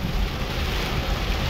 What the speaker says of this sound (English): some crazy rain.